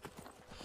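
A horse in Skyrim trots along, giving quick, faint clip-clop hoofbeats in an even rhythm, heard alone over a short stretch.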